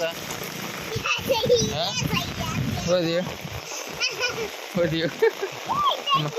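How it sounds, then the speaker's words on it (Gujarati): Torrential monsoon rain splashes and patters steadily in Patan while children's voices chatter loudly over it. "મુસળધાર વરસાદ પડે"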